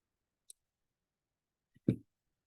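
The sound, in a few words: computer mouse clicking the Go button in Excel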